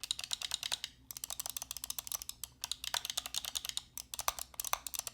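Razer Cobra and Razer Viper Mini Ultimate mouse buttons click in quick, close bursts, a crisp run of sharp clicks with brief pauses between groups, alone in a quiet room.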